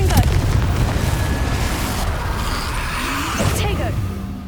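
A Confringo fire spell detonates in Hogwarts Legacy, a loud, dense boom with a rushing whoosh that rolls on through busy game effects and a second burst near the end.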